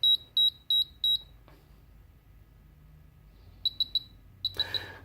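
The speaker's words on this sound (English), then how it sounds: "every time you hear the continuity beeps like that, it's a good thing" A continuity tester on wired battery connectors gives two bursts of short high electronic beeps, four in a quick even row, then three more after a quiet gap, with a brief rustle at the end.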